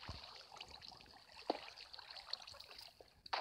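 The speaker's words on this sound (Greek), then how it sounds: "Και άλλο νερό." Water flows in Minecraft with a faint, quiet trickle and stream, dotted with soft game clicks.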